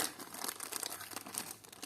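A plastic packet crinkles and rustles up close, a bright, continuous crackling handled for a couple of seconds.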